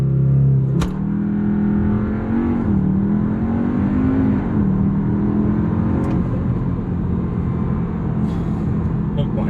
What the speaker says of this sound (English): that DSG launch is still probably one of the best in the game